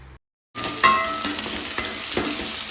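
Onion, garlic, curry leaves and fenugreek sautéing in a pan for a Sri Lankan mud crab curry, a close sizzle that starts abruptly after a brief silence and continues steadily with light stirring clicks.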